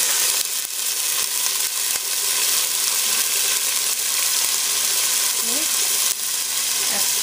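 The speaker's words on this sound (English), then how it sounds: "I usually like to fry the ginger and garlic in the curry" Ginger, garlic and curry leaves frying in a curry, giving a continuous moderate sizzle and hiss with a few faint stirring touches.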